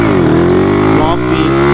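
A Honda Wave 125s motorcycle pulls away in first gear with a loud, close engine note that rises in pitch as it revs up, dips briefly, then climbs again, with talk over it.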